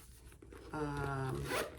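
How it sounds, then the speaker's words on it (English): A zipper on a sling bag pocket is pulled open in one quick, close, rasping zip that slides steadily for about a second, with faint handling before it. "It's got a zipper"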